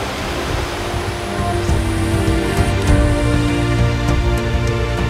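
Rushing mountain waterfall on an Idaho alpine trail in steady rain, a dense continuous roar of falling water filling the scene without a break, close and loud.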